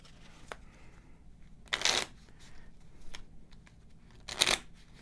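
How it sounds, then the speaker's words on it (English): Two bursts of card shuffling from a board game's monster deck, each a brief riffle close up and fairly quiet, with faint handling clicks between them. "We'll go ahead and shuffle the monster deck up."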